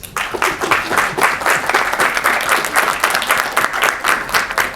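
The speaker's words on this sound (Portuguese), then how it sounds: "eu peço uma salva de palmas" An audience at the Cine Teatro Brasil gives a round of applause for its director Eliane Parreira, brisk and fairly loud clapping that holds steady for several seconds without speech.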